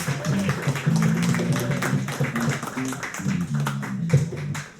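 An audience claps for Mitch and Anton McKecken after their talk on anxiety at a live show, moderately loud applause running throughout, with a low voice murmuring underneath.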